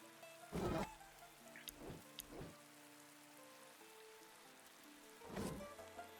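Steady, soft rainfall in the game Dead in Vinland, a faint continuous patter with a few louder thumps and music in the background.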